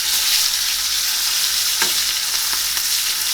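A New York strip steak sears in a hot pan, giving a steady close sizzle and fry hiss throughout with a few brief crackles and pops near the end.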